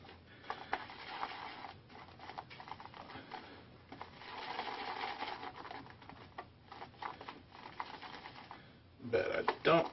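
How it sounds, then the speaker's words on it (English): Stirling shaving soap bowl-lathered with a brush: soft, quiet swishing and scratchy churning in uneven bursts, with a sharper wet clatter near the end. "It takes a little bit more work bowl lathering."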